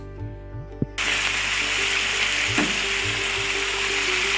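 Mixed vegetables frying in a little oil for a restaurant-style soya chilli, starting with a few soft kitchen knocks before a loud, steady sizzle takes over with occasional stirring clicks.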